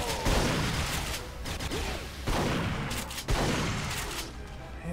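Shotgun blasts in Duke Nukem Forever, several heavy booming shots a second or so apart over constant loud combat noise, with no talking.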